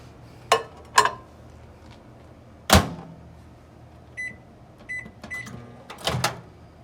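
A microwave oven warming tortillas on a plate: a few clunks and clicks as the door and controls are worked, then the faint hum of it running, a handful of short electronic beeps, and a final door thud.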